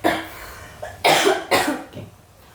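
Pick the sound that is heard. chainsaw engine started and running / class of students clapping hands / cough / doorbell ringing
cough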